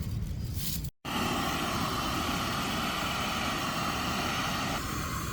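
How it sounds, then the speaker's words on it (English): A steady engine drone from an airplane near Dublin Airport holds after a brief cut, passing at a distance, constant and moderate in level. "pretty close to Dublin Airport, so we're going to hear an airplane every 12 minutes"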